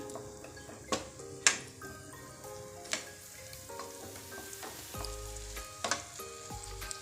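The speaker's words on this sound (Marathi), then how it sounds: "गार्लिक बटर चिकन आहे म्हणून बटरसोबतच ते परतवून घ्यायचं." Minced garlic sautéing in butter in a pan for garlic butter chicken, a steady gentle sizzle with occasional clinks and scrapes of a spoon stirring against the pan, close up and without speech.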